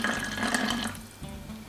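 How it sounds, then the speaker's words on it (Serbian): Water splashes and gurgles as 60 ml is poured into a spray bottle, a brief steady stream that tapers off. "U nju sipamo 60 ml vode."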